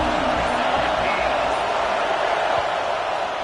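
Steady, dense stadium crowd roar from the College Football 26 video game during an Arkansas at Texas matchup, a loud continuous wash of noise with no distinct voices standing out.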